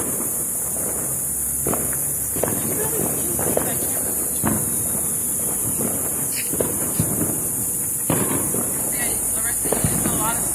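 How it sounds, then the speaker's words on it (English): Fireworks burst outdoors as a series of irregular pops and crackles, some sharper and louder than others, over steady wind noise and background hiss, with people talking intermittently. "Okay, so that was that fireworks."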